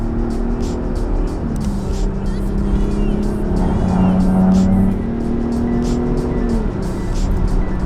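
A Jeep in sport mode takes a turn, its engine droning steadily at close range with pitch shifting as it rounds the bend, a continuous loud hum with no talk over it.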